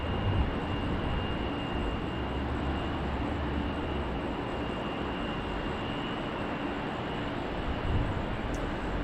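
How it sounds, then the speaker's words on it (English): An Alaska Embraer E175 jet runs up its engines at runway 34 left, a continuous loud broadband roar with a steady high whine, heard at a distance without interruption. "And Alaska, Embraer E175. Running up to runway 34 left."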